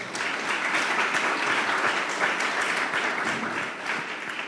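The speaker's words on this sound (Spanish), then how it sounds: "para quien pido un aplauso muy importante" Sustained audience applause fills a lecture hall, a dense, steady wash of many hands clapping at even loudness throughout, with no voices rising above it.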